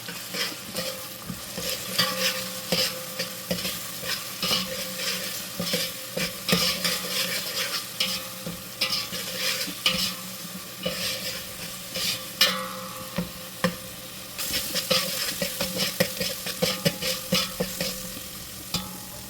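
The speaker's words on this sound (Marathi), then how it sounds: "आता ह्यामध्ये मी घालत आहे आलं लसूण कोथिंबीर मिरचीची पेस्ट. घाटून घेऊया." A ginger, garlic, coriander and chili paste being stirred in a frying pan for mutton masala, with steady sizzling under repeated scraping strokes of a spoon against the pan, close up.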